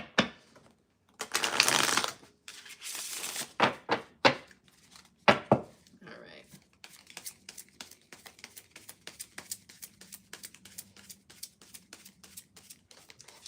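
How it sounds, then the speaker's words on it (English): Tarot cards riffle and snap together in several quick bursts, followed by a long run of soft, rapid patting and sliding of cards, close up. "Let me do one more shuffle."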